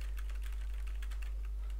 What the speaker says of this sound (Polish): Musimy tylko klikać właśnie Ctrl i klikać strzałki na boki.